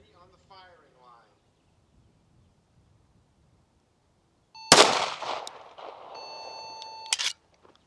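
Rifle shots in rapid fire at 15 yards on an outdoor range: a loud sharp report followed by a second burst with ringing tone, after a few seconds of faint distant voices.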